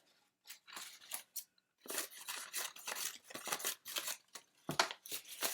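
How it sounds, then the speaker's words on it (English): Scissors snip through paper strips for a first-grade art project, a run of repeated close, crisp cuts with brief pauses between. "I'm going to cut around that tear, just cutting the strips up"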